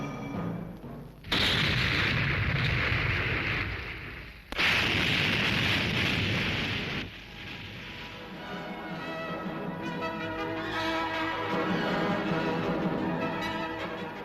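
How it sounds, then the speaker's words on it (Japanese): Explosive charges blast a waterway through a flooded farm road after the Ise Bay typhoon, producing two loud booming roars that trail into a long rumbling wash with no talk. "浅瀬となった農道の爆発開削が行われ水路を開きます"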